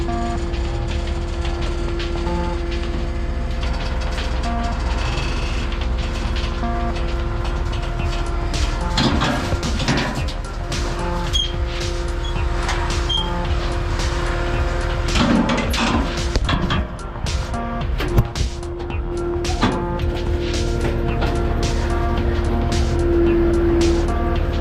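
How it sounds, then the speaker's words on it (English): Cat 259D3 compact track loader running during tree-care cleanup, a steady engine drone with whining hydraulic tones and clanks and rattles as it works, close and continuous. "Let's go skid steering."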